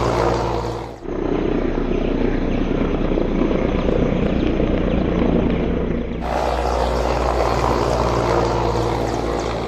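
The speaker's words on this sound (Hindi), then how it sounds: "इस वीडियो में देख सकते हैं हेलीकॉप्टर कैसे कुछ देर के लिए ज़ाहिर होता है धुंध में और फिर वो मुड़ता है और किसी चीज़ से टकरा जाता है" A helicopter flying in fog before crashing gives a loud, steady rotor and engine roar throughout, with a brief dip early on and a sharp change in tone partway through, no voices.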